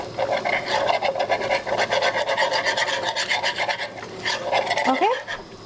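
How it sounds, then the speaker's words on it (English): A whisk scrapes rhythmically against a pan, stirring butter over low heat for chicken fettuccine Alfredo, with rapid, steady rasping strokes close up that slow near the end, where a brief voice-like tone rises. "get my whisk and start whisking the butter."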